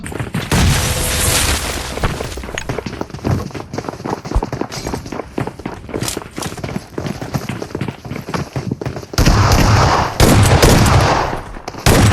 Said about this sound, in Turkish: Ananı satayım çok kötü bomba attım.